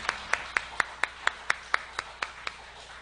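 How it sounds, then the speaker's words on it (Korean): Slow, evenly spaced hand claps, about a dozen crisp strikes over three seconds, from a church congregation applauding the volunteers who served; sounds like a few people clapping in rhythm in a quiet room. "다시 한번 우리 수고해준 모두에게 박수로 격려할까요?"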